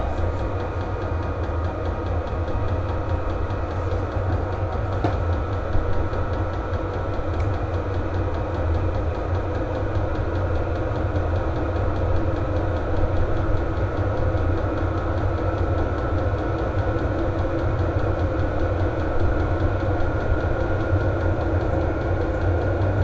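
A small VEVOR diesel heater runs continuously with a steady droning hum and rattle, unchanging throughout.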